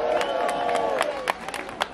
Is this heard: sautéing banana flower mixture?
no